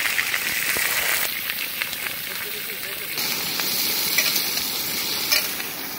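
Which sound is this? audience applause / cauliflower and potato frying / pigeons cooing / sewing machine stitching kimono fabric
cauliflower and potato frying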